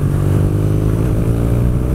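BMW R nineT motorcycle of about 110 hp accelerating hard, a loud, steady engine roar with a deep rumbling tone heard close up and alone, with no talking.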